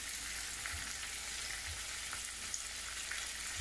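Fish frying in a pan, a steady, fairly quiet hiss of oil with faint crackles throughout and no one speaking.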